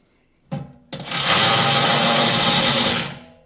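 A power tool whirs loose the 10mm bolts on the carburetor of an Ariens Path-Pro SS21E snowblower, starting with two short bursts before running steadily and loudly for about two seconds, then winding down.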